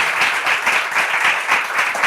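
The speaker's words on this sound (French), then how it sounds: "On peut applaudir nos candidats." Steady applause from a quiz-show audience cheering the contestants of a Bible quiz, dense and continuous hand clapping filling the whole stretch with even, rolling pulses.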